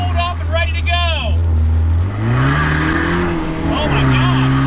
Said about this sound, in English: It really keeps the turbo engine spooled up and ready to go.